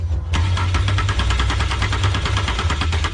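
An old vintage car engine cranks and catches at an outdoor classic car gathering, then runs in a loud, rough, steady idle with fast irregular firing, close to the microphone.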